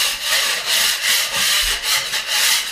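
A blade scrapes across a primed drywall surface that is being skim-coated, in rapid, even back-and-forth strokes, each a loud, close, raspy shave, with no talking.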